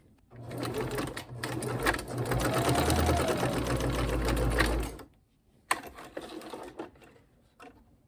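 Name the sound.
sewing machine stitching fabric scraps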